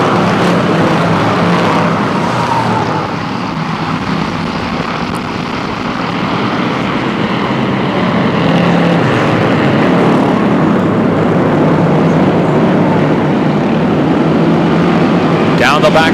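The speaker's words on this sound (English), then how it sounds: "Thunder Cars getting set to go back racing now as the pace car heads off to the infield" Thunder Car race cars roaring around Flamboro Speedway, a steady wash of engine noise from the pack held at constant loudness for the whole stretch, with a commentator talking over it throughout.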